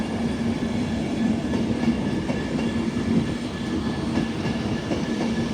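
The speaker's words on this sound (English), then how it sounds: "390-001, B together, bound for London Euston from Glasgow Central." Class 390 unit 390-001 runs past at Carlisle on the West Coast Main Line, Glasgow Central to London Euston, with a steady mid-distance rumble and faint rhythmic wheel clatter throughout.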